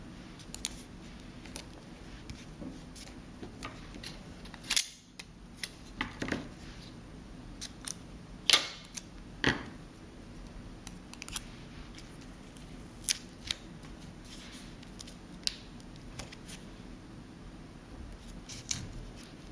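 Scissors trimming paper for an iris folding card, many quick close snips in an irregular run with small paper rustles and handling in between, steady and fairly quiet.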